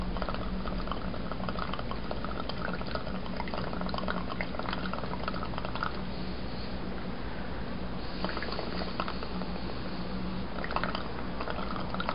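Steady bubbling of air blown through a drinking straw into a liquid during a chemistry experiment, a continuous close gurgling and fizzing that runs unbroken throughout with no talking.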